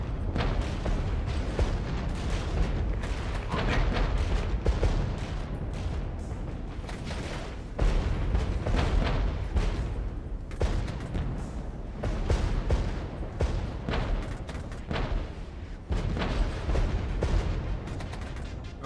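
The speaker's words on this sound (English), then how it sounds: "it's a little bit of artillery fire" Artillery barrages and mortar fire in the battlefield video game Regiments, loud repeated booms and blasts arriving in clustered volleys over about twenty seconds, with rolling rumble between impacts.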